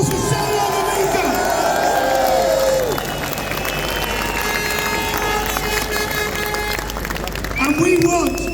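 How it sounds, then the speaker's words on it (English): A large outdoor crowd at a Unite the Kingdom rally cheers and roars continuously, with shouting voices and scattered clapping, swelling again near the end. "Let's have a massive round of applause for Salman America."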